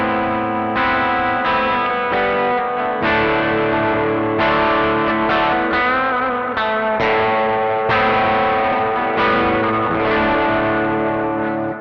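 An electric guitar plays a run of chords and notes through the reverb of a Caline CP80 Ragnarok delay and reverb pedal, with a long decay so each strum washes into the next, loud and continuous, with no talking.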